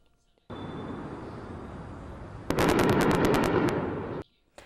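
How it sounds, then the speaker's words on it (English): Heavy anti-aircraft fire over a city under airstrikes: a loud, continuous roar of gunfire that thickens midway into a dense cluster of sharp cracking bursts, then cuts off abruptly. "Rebels responded with heavy anti-air fire that could be heard across the city."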